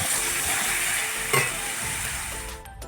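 Onions fry in hot oil with a continuous, fairly loud sizzle, with a brief stirring scrape partway through and the hiss easing near the end.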